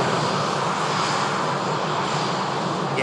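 A plane's aircraft engine roars steadily and loudly during a test flight, a broad, continuous drone with no talk.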